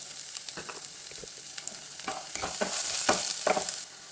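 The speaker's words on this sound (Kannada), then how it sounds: "ಆನಿಯನ್ ಲೈಟಾಗಿ ಫ್ರೈ ಆಗಿದೆ" Onion and dried chillies fry in a pan for a light harive soppu palya, a steady sizzle broken by scraping stirs that grow louder and busier toward the end, with no talk.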